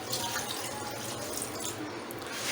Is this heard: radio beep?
no